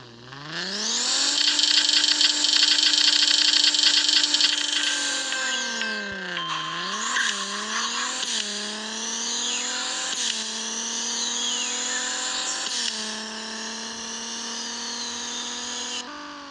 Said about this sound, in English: I'm gonna just drive this vehicle real quick to show you guys its performance